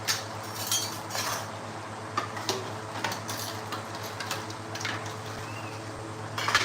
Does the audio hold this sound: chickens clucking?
no